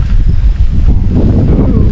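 Wind gusts roar across the microphone at a rainy night campsite on Lumut Lake, a loud low buffeting rumble filling the whole moment with no break.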